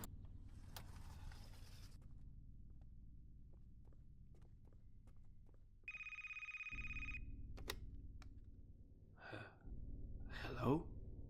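An old telephone bell rings in a steady harmonic burst for about a second in a game's quiet indoor scene, with footsteps, a low hum and soft breathy game sounds around it.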